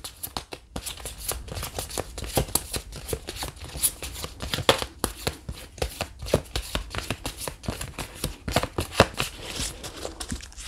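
Cards shuffled steadily before three are drawn for a reading, a dense, continuous run of crisp papery riffles and taps, close and fairly loud, with no talk.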